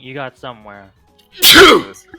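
A single sudden, forceful sneeze bursts out right after a man's brief speech, loud and close.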